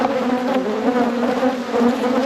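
Dense, loud honeybee buzzing fills the air at an opened hive during a post-winter deep inspection, a continuous close swarm drone with no break.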